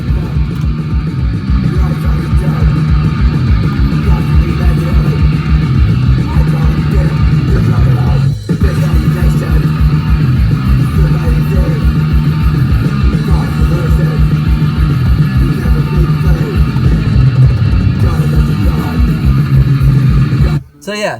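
Local hardcore band song played from a red cassette on a car stereo, loud, thick distorted music with pounding drums and a steady driving rhythm, briefly cutting out near the end.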